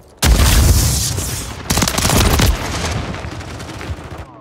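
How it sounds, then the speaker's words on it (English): A stun grenade bursts amid automatic gunfire in a Call of Duty Modern Warfare 3 multiplayer match on the Shoothouse map, with loud, dense crackling bursts near and a second heavy blast before the din tails off. "Stun grenade out!"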